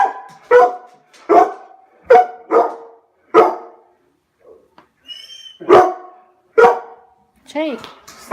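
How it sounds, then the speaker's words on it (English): Several dogs bark indoors in a rapid, loud run of close barks, with brief pauses and a whimpering yip toward the end. "My dogs are going nuts."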